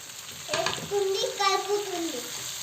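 Tomatoes are stirred into a frying dry fish curry, with a steady sizzle and stirring scrapes close by while voices talk briefly over the cooking.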